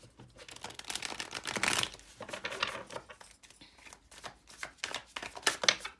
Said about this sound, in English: Let's get some additional shuffles in.